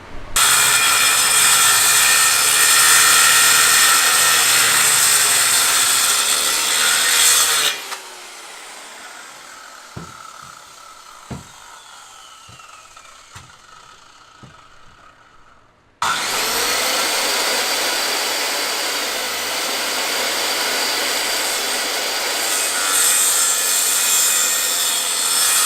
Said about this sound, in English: I can now cut this leg off at 36 inches